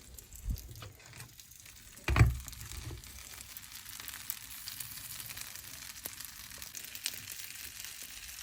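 Sourdough bread is frying in olive oil in a pan, giving a soft, steady sizzle with a brief louder thump and crackle near the start, close by and without talk.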